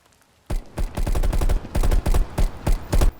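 Rapid bursts of automatic gunfire in the video game Black Ops Cold War, loud and dense, with repeated volleys of shots following one another without pause.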